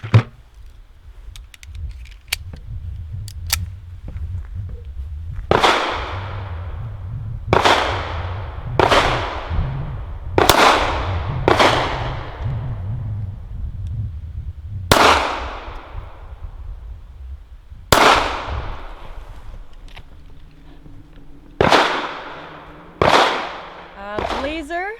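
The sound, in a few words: Walther PPK/S pistol shots with steel case ammo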